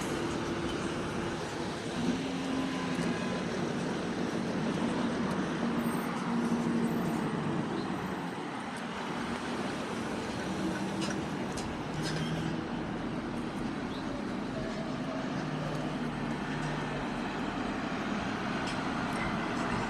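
Road traffic at a busy intersection, a constant low rumble of passing cars and trucks with some heavier engines rolling through. The vehicles are at a moderate distance and the noise never lets up.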